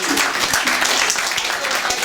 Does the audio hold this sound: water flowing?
no